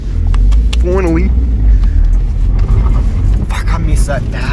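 A Holden VL fitted with a turbo kit and a big external screamer pipe rumbles steadily and loudly, a deep engine drone from close by, with voices talking over it.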